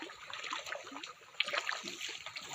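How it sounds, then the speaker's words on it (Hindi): Floodwater flowing and splashing through a waterlogged street, a soft continuous trickle and slosh with brief splashes, fairly faint and steady throughout. "बहुत पानी है यहाँ पे।"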